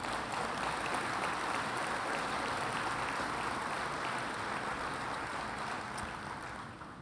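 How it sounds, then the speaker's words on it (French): An audience at a municipal council meeting applauds in a dense, steady wash of clapping that lasts several seconds and slowly thins toward the end. "Je pense que ça mérite une bonne main d'applaudissements."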